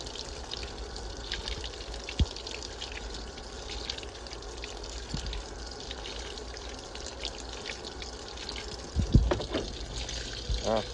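Water running and splashing inside a washing machine during a towels and sheets cycle with bath and beach towels, a steady wash of flowing water with a few sharp thumps and clunks near the end.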